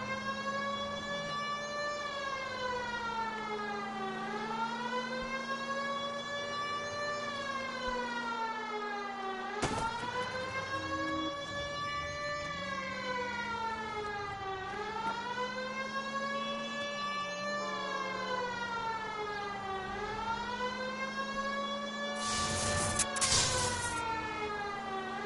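A wailing ambulance siren in L.A. Noire rises and falls in long, steady sweeps, loud and continuous throughout, with a brief burst of noise near the end.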